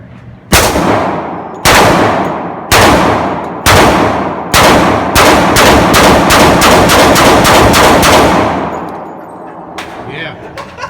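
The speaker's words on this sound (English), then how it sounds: "JoJo shoot a Glock 20C" Glock 20C 10mm pistol fired at an outdoor range, loud sharp close shots, first spaced about a second apart, then a rapid string of quicker shots, with ringing decay after each.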